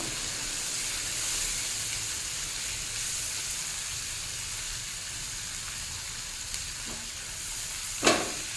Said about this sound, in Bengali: এটাও ভালো করে মিশিয়ে দেবো।